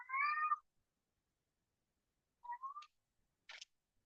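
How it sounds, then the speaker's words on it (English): A cat meows once clearly, then gives a shorter, fainter meow about two seconds later, followed by a brief soft chirp, with silence between. "Cats."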